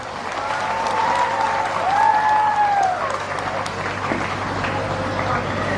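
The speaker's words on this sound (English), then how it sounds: "Let us all give a huge round of applause." A large audience at the evening session of a regional Catholic youth convention breaks into loud, sustained applause, with a couple of rising whistles or cheers over the clapping and no speech.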